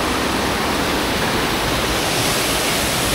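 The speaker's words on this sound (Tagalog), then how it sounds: "Tapos dito merong falls din dito oh." A waterfall on the trail to Tagupak Falls roars as a dense, steady broadband rush, close and loud, with no voices over it.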